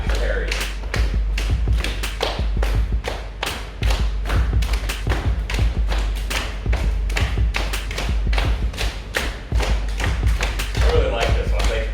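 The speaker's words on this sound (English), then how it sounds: "It's like banging on my leg." Rapid, steady slapping of hands against a leg during a follow-along total body workout, a dense drum-like run of close, punchy thuds with a few brief pauses, continuing almost without a break.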